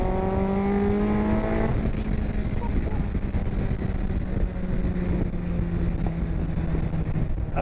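Road-legal Cup 200 racecar engine roaring loud and close while driving, a steady, rough, high-revving drone that holds for several seconds with a brief shift in pitch early on.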